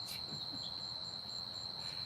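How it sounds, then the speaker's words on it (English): Crickets chirp outdoors on a porch in a steady, high continuous trill, moderately loud over a soft background hiss, with no talking. "Yeah, they're crickets, that's right."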